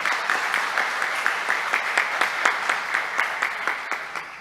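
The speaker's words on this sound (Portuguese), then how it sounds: "gostaria de pedir uma salva de palmas para eles" Audience applause at a Brazilian public forum on housing rights, honoring housing occupation groups; steady moderate clapping from a crowd, fairly even throughout with individual claps standing out.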